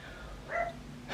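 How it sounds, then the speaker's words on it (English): A single short dog bark rises once from a quiet indoor background, somewhat distant and soft. "Excuse my dog. I'm not sure why he just barks at everybody who walks past the"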